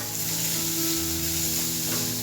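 Small onions and grated coconut sautéing in a pan give a steady, close sizzle and frying hiss with faint stirring scrapes, no voices.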